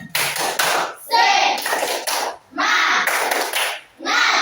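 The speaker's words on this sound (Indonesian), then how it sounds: "Tepuk semangat" A sixth-grade class of children performs a rhythmic spirit clap in their classroom, with bursts of patterned clapping separated by short gaps and chanted voices between them.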